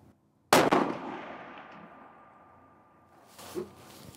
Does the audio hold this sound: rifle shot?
yes